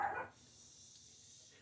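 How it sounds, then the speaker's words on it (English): Dogs barking in the morning, a short burst of barks right at the start that quickly stops, leaving a quiet room hum. "Dogs are awake this morning."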